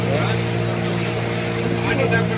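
Continuous motor drone of a small pedal or motor boat out on the water, steady and close throughout, with faint talk mixed in.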